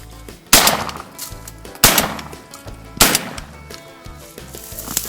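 Shotgun blasts during a bird hunt in Argentina: three loud, sharp reports spaced about a second apart, each with a short echoing tail, close to the listener.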